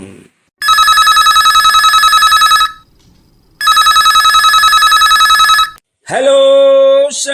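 A telephone rings loudly in two long electronic trills separated by a pause, then a rising tone follows.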